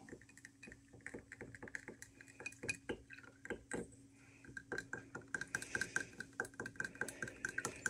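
Liquid being stirred in a small container, a metal utensil clinking and scraping against the sides in quick repeated taps, quiet and close, growing busier toward the end.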